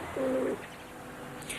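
A free-ranging pigeon gives a single short, soft coo, fairly close, over a faint steady background hum with no talking.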